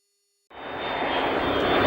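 KC-135 Stratotanker jet taking off, a sudden onset of loud broadband engine roar with a steady high whine, growing slightly stronger after a moment of silence.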